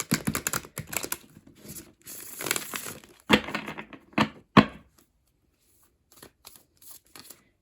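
Tarot cards are shuffled up close in quick, crisp riffling bursts, followed by a few sharp snaps and soft taps before it falls mostly quiet.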